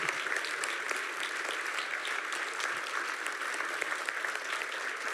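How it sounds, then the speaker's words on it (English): Sustained, dense audience applause closing an evening arts lecture, steady and fairly close with no talk over it. "One more round of applause, everybody."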